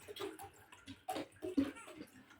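Water and orange blossom water are poured together in a kitchen for a semolina pastry, a faint close splashing trickle in short uneven bursts, quiet and with no talking.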